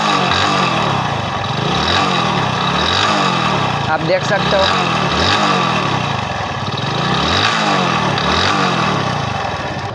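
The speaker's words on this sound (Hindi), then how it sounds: "तो गाइज, पहले तो आपको किक स्टार्ट करके इसका नॉइज दिखा देते हैं। ये रहा, बाइक स्टार्ट हो चुकी है अभी हमारे।" Hero Splendor Pro motorcycle engine idling after a kick start, a loud, close, rhythmic chugging with regular low pulses throughout, someone talking over it, and an odd noise when the throttle is opened.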